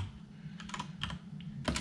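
Several quick clicks on a computer keyboard come in short bursts, close and faint, with brief gaps between them and no voices.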